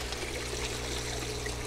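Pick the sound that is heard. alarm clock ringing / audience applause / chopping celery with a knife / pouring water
pouring water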